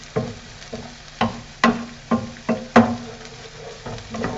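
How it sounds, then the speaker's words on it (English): Two rashers of diced bacon in a hot pan, a soft sizzle under a series of distinct scraping stirs and taps of a utensil, about ten strokes at an uneven pace. "My 2 rashers of diced bacon are going in"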